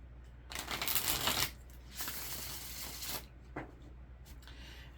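Tarot cards being shuffled: two longer riffling bursts and a few short flicks, crisp and close in a quiet room with no talk.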